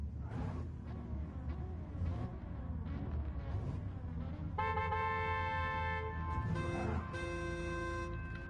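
In Gran Turismo 7, a car sounds its horn twice during a car show in the pits: two sustained, bright tonal honks over a low engine and ambient rumble.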